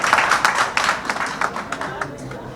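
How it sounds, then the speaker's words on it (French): An audience claps for a newly installed board chairman at a ceremony, uneven hand claps with distinct sharp slaps, moderately loud and fading slightly toward the end, with some voices mixed in. "Alors si vous l'applaudissez autant"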